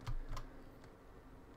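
Computer keyboard keys pressed while flying a plane in War Thunder, a few soft scattered clicks over a steady low hum, close but quiet, with no talk.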